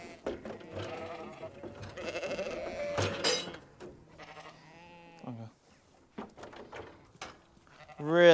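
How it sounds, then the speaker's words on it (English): Ewes bleating on a farm, several wavering calls spread through the clip, with one loud, close bleat at the end over faint background noise. "Really smart ewes."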